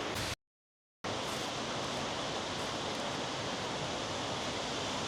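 A waterfall seen from a boat and bridge: a steady, dense roar of rushing water that drops out briefly near the start, then continues evenly.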